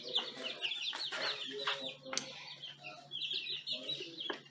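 Young chicks in a brooder with a heat plate and feeders, chirping in a steady stream of high peeping calls, close by and fairly busy, with occasional rustling among them.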